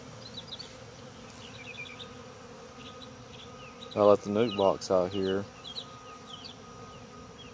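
A busy buzzing of many swarming bees in fall swells around a person speaking briefly, the insects droning steadily and closely throughout.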